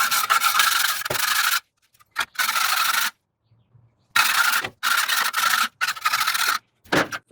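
Gas grill parts being scraped clean with a tool, rough rasping strokes in repeated bursts of about a second each, separated by short pauses, loud and close with no talking.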